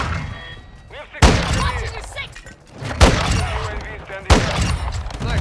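Bursts of SA-B 50 gunfire in Call of Duty come in three loud, sharp volleys with echoing tails and game noise between them.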